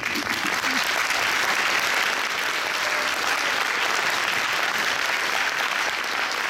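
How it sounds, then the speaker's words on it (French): Dense, steady applause from a concert audience for the technical crew at Le Poc in Alfortville, filling the whole stretch loud and close, with no talk over it. "j'aimerais que vous leur fassiez un tonnerre d'applaudissements aussi"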